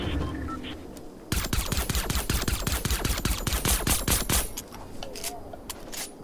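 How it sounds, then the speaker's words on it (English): Rapid automatic gunfire from a Fortnite match rattles in a dense burst lasting a few seconds, loud and close, with quieter game ambience before and after and some talk mixed in. "I'm just shooting."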